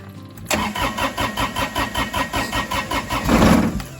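Homestead tractor engine turning over on the ignition key and catching, a rapid rhythmic chugging that settles into a steady idle, with a brief louder surge near the end.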